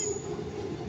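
An electric skytrain runs past the Pathumwan skywalk in Bangkok, a brief, steady rumble of rail cars and wheels heard close by with no voices.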